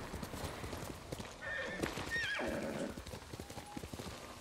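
Rhythmic hoofbeats of a galloping horse in the video game Ghost of Tsushima, then a loud whinny in the middle, with the pounding hooves continuing after.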